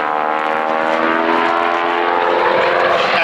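A Boeing Stearman PT-17 Kaydet biplane engine drones loudly and steadily during an aerobatic hammerhead turn, a rich harmonic hum, sustained and close throughout.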